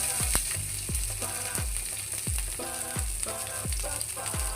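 Green chillies sizzle and crackle in hot oil, with sharp popping bursts recurring about every half second over a steady frying hiss, close and alone.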